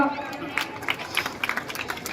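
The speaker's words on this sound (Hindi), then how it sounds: "एक बार जोरदार तालियां" Applause and scattered clapping from a crowd honouring NCC girl cadets at a Republic Day ceremony, with bursts of claps over a murmuring audience and voices.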